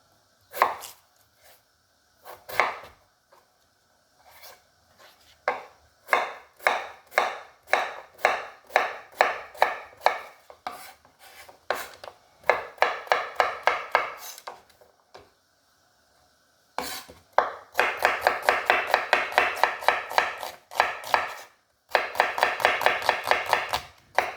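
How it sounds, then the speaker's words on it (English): Knife chopping ingredients for Jamaican brown stew chicken on a cutting board, crisp rapid strokes in bursts separated by short pauses, close and clear with no talking. "So we're gonna cut up a few of these and let you see what's going on"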